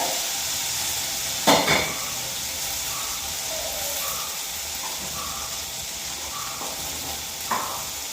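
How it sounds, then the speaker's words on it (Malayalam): Food frying in oil in a home kitchen gives a continuous soft sizzle, with a few brief clatters and stirring scrapes. "ഫ്രൈ ആകാം"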